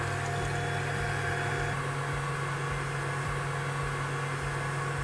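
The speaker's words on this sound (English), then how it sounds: "We've simply got the whisk attachment, and we're going to whisk for about 6 to 8 minutes until it starts to develop peaks" A stand mixer with a whisk attachment beats chickpea water into peaks, giving a steady, continuous motor whir with an even mechanical hum throughout and no voices.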